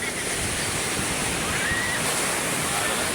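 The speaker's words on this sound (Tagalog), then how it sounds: "Lumalagabog ang alon talaga." Heavy sea surf pounds a shore near houses in dark, stormy weather, a continuous loud roar of crashing waves with wind noise buffeting the microphone throughout.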